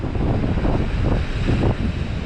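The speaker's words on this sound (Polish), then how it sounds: "Dużo fal dziś jest." Ocean waves breaking near cliffs at Reykjanes, Iceland, a loud steady roar of surf with rushing swells, mixed with heavy wind buffeting the microphone.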